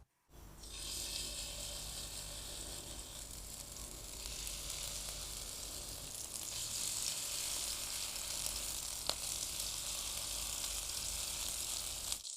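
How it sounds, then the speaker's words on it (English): Chicken liver and rice fritters sizzle steadily in hot oil in a pan, a close, continuous frying hiss with a faint low hum beneath and no voices. "I'll finish frying everything"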